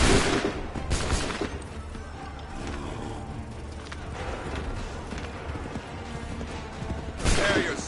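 Volleys of musket gunfire from a line of soldiers in Assassin's Creed 3 Remastered, sharp bursts at the start and end over a busy rumbling battlefield din.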